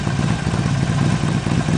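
Harley-Davidson Sportster 48 motorcycle running a Torque Hammer full exhaust system with no dB killer, giving a loud, deep, steady rumbling idle with a dense low-pitched pulsing throb, close up and heard alone.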